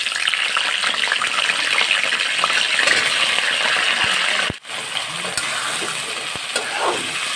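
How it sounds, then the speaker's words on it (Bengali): Spinach and mixed vegetables sizzle and fry in a hot pan while being stirred, a steady close crackle throughout with a brief dip midway and a few light scraping clinks. "এই যে সবজিটা এর মধ্যে আমি দিয়ে দিচ্ছি"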